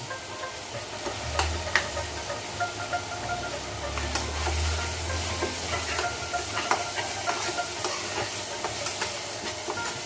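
Turmeric and cumin paste frying in a pan for a quail bhuna, a continuous soft sizzle with occasional stirring scrapes and low rumbles underneath.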